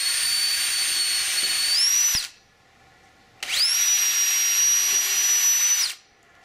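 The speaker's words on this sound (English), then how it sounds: "Use an 1/8 inch bit for pilot holes to prevent the wood from splitting." A power drill bores 1/8 inch pilot holes into wood in two sustained high-pitched whining bursts with a short pause between them, close and loud, with no talking.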